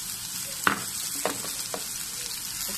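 Colored bell peppers tipped into a pan of frying potato omelette, with a steady close sizzle and a few soft clacks of stirring over about three seconds.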